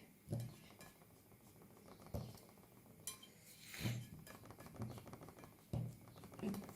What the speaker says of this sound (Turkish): borcamımıza göre hızlıca keselim kurumadan